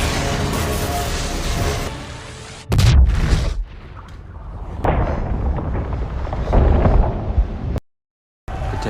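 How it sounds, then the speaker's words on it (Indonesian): High explosives blowing up a gate: a sudden loud boom with a deep burst of rumble, then scattered crashing and debris noise and a brief drop to silence. "Lalu ia meledakkan gerbang tersebut."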